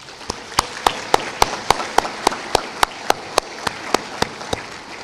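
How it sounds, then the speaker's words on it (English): At a college commencement ceremony, one close, sharp clap repeats in a slow, steady rhythm, about three per second, over a faint wash of crowd noise. "Please give yourselves a rousing round of applause"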